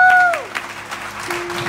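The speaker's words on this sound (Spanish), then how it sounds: "Denle un fuerte aplauso a los novios." Wedding guests applaud the bride and groom at a church ceremony in California, with scattered clapping under a fading tone and a held pitch, a voice briefly audible.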